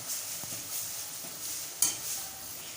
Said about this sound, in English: Now flip the chaklis, because both the sides it should get cooked or fried.